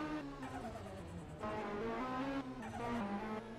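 A car drifting through a turn in a racing game, its engine droning steadily with shifting pitch and a tire squeal running throughout, loud and close, no voices.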